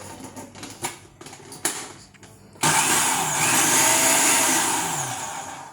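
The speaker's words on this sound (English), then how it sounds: "Pulse that just a couple of times, kind of mix it up." Food processor pulsing flour, salt and butter for a quiche Lorraine crust: a few light clicks and bumps, then a sudden loud, steady whirring motor burst that runs close and strong for several seconds before easing slightly.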